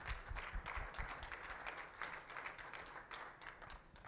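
Audience at a certification ceremony giving sustained applause, a continuous crackle of many hands clapping at moderate level with no talk over it.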